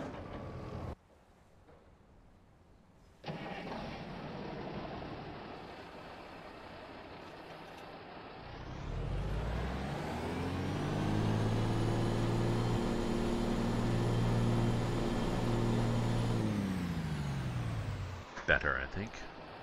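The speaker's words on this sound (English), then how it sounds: "Let's see what that engine sounds like." A Mack B62 truck engine idles low and then revs up, its deep harmonic drone climbing and holding loud in American Truck Simulator, ending with a hiss of air brakes; someone talks intermittently over it.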